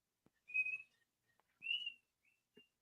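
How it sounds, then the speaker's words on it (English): A man whistles a made-up tune outdoors while fishing, in two clear sustained phrases with short notes between, fairly close and alone over near silence. "Man, he is just whistling away"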